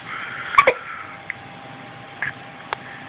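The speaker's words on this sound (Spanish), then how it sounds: "esa tos es para llamar la atención." A small child lets out a few short, soft coughs in scattered bursts, one quick pair early and a couple of fainter ones later, close by in a quiet room with no talking.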